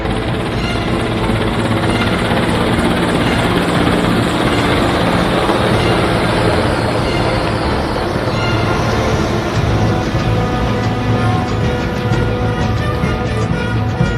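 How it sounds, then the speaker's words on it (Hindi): Super Hercules C-130 special-operations aircraft fly past near Sukhna Lake, giving a continuous loud, broad roar of engines and propellers that holds steady throughout with no voices. "सुपर हरकुलस स्पेशल ऑपरेशन विमानों ने सुखना लेक के पास फ्लाई पास्ट किया।"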